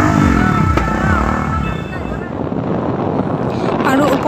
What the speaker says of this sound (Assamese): আমাৰ পিছে পিছে আহি আছে বাইক ৰেলী